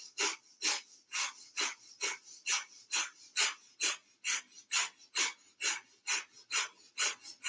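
During a fitness workout, a person does a rapid rhythmic breathing exercise, forcing about sixteen sharp, breathy puffs in quick, even succession, close and loud with no talk.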